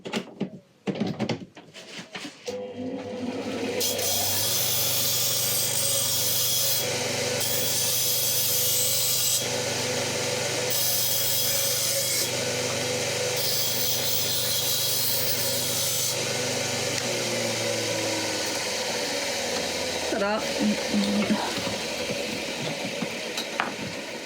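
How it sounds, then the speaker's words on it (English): Metal crinoline hoop ends are ground and filed in a long, steady, close abrasive grinding drone that runs for most of the stretch, with some pauses and fades and no talk. "I'm going to grind these ones."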